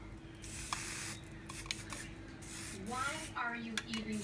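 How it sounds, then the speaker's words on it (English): Several short hissing spray bursts, fairly close, with faint talking and background noise in between. "You want me to spray it now?"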